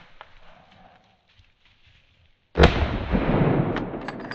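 In slow motion, a single rifle shot fired at a wild boar during a driven hunt lands as one sudden, heavy boom after a near-silent lull, then stretches into a long, rumbling decay.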